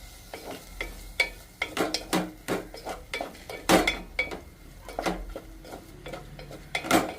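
Spice powder being stirred into raw prawns in oil with a spoon, making a run of close scraping clinks against the pan at an irregular rhythm, with no voices.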